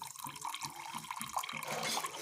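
Water is poured into a bowl holding sugar to make syrup for rasgulla, a soft close splashing trickle that runs steadily with small bubbling accents.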